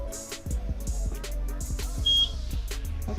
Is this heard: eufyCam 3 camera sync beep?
yes